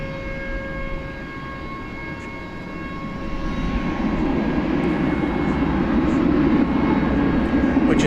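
An airliner takes off from DFW Airport at night bound for Mexico City, a steady broadband engine roar that swells louder and fuller over several seconds, with a few thin tonal whines above it and no talk.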